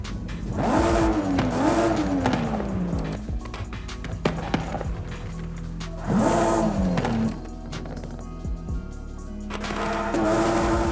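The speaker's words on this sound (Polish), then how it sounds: "I możemy sprawdzać dźwięk silnika" A tuned Toyota Supra A90 engine in the video game Forza Horizon 5 revs hard in three separate bursts, its pitch climbing and dropping each time, with a low idle hum in between.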